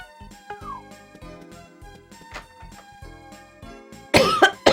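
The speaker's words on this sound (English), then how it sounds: "Sorry for the coughing and stuff like that." A single sharp burst of coughing breaks in near the end, loud and close, after a stretch of soft background video-game music from Harvest Moon: Magical Melody.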